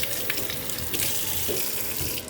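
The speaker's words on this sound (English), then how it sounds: "Now next thing I'm gonna do here is wash my hands again." Tap water runs steadily into a kitchen sink as hands are washed while cooking vegetable soup, a continuous close splashing rush with small spatters and no speech.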